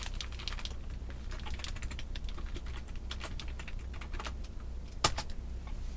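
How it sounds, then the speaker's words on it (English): Quiet, steady tapping of keys on a computer keyboard at close range, in irregular bursts with one sharper click near the end, alone without talk. "I could just type this in."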